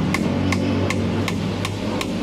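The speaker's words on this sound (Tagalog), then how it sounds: "Oo, lupit nga natin martilyo ah." A hammer strikes in a steady rhythm, six sharp, close metallic blows spaced evenly over a couple of seconds against a constant low background hum.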